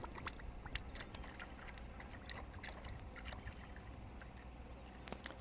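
Liquid bee feed pumped into a feeder pours in a low, steady gurgling trickle with faint splashy clicks, quiet and continuous throughout.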